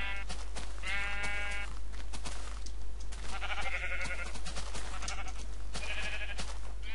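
Sheep bleat repeatedly in the video game Minecraft, several wavering baa calls spaced a second or two apart over a constant low hum, clear and fairly close.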